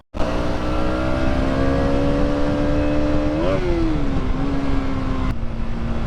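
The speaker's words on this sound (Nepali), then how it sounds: "बाइकको साउन्ड कस्तो छ" A motorcycle engine hums steadily while riding through congested city traffic, a close, continuous drone with a brief rise in revs midway and no talk.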